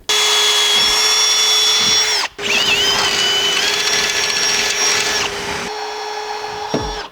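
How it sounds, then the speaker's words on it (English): A power drill whines loudly and steadily, briefly stopping and restarting, with high-pitched grinding as the bit bites into the metal body of a Honda Civic. "since we're drilling holes and exposing bare metal"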